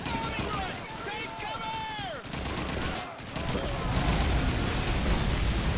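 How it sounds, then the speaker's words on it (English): An aircraft bombing run in Call of Duty 2, with a diving plane's whine sweeping down in pitch, then bursts of gunfire and rumbling explosions that build into a loud, dense barrage, with voices shouting over the combat. "It's a bombing run!"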